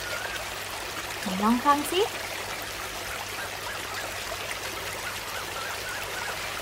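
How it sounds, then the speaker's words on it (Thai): Soft, steady trickling water runs throughout at low level, with a brief spoken phrase near the start over the flow. "เสียงที่เด็กๆกำลังได้ยินอยู่ตอนนี้เป็นเสียงอะไรนะ เป็นเสียงน้ำไหล"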